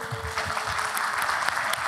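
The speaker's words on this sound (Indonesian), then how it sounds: "Jadi teman-teman minta tolong tepuk tangannya untuk" Steady applause from an audience at a Srimulat comedy event, a dense, even wash of clapping that holds for two seconds without any talk over it.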